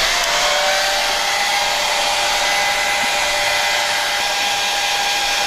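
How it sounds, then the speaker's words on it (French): A handheld hair dryer on its cold setting blows a steady, loud, continuous whoosh with a constant motor whine, used to speed the drying of starched tulle while restoring an antique Touraine bonnet. "je vais accélérer le séchage à l'aide d'un sèche-cheveux qui donne de l'air froid"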